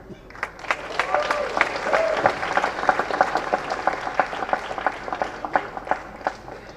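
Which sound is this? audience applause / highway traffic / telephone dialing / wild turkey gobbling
audience applause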